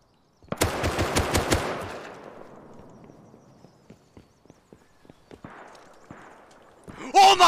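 A loud, close burst of rapid AK rifle fire in the survival game Rust, followed by scattered quieter footsteps and clicks, then a voice breaking in at the end.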